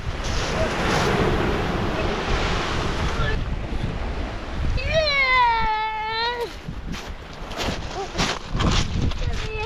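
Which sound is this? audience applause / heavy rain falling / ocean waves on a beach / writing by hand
ocean waves on a beach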